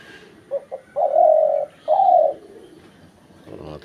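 A pet hunting decoy bird, set up in a tree after a month and a half, calls loudly and close by: two short soft notes, then two long rolling coos, with no other voices.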